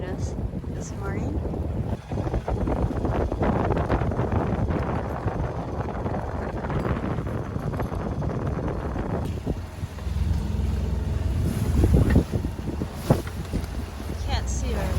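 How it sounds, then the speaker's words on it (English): Big ocean waves and strong wind buffeting a sailboat offshore under jib, a loud continuous roar and rush with microphone wind noise and surging swells, easing slightly partway through before building again; a voice is heard briefly. "biggest waves we've ever been in"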